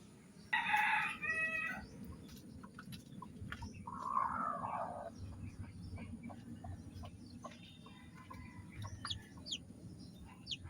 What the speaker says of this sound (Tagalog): Ilalagay na natin yung ating mga sisiw